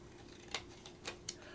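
Sharp scissors snip a paper triangle in three quick, crisp cuts, faint and close over a quiet hum.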